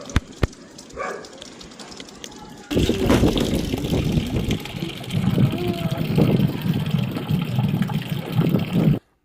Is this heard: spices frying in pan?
no